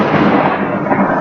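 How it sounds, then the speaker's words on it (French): Thunderstorm noise picked up by a computer microphone during an online class: a loud, steady rumbling roar filling the short stretch without any speech. "l'orage fait beaucoup de bruit"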